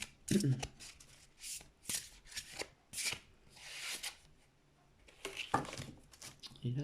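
Oracle cards are shuffled and drawn in a series of crisp riffling and flicking bursts, close and fairly quiet, with brief pauses between them and a voice talking softly at times.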